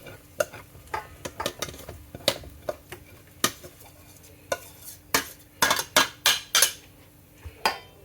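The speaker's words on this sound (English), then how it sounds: "I want to get this stirred in really, really good." A utensil stirs a cooked homemade nacho cheese hamburger mixture in a pot, giving a series of sharp scraping clinks and knocks at an irregular pace, close and fairly loud, with no voices.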